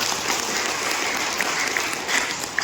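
An audience at a motivational storytelling talk claps together in a dense, continuous burst of applause, fairly loud and even throughout the short moment, with no voices.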